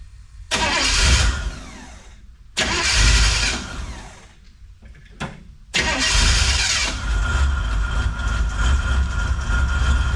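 A 1963 Chevrolet Impala engine cranks in short bursts with pauses between tries, then catches and settles into a loud, steady, slightly uneven idle up close.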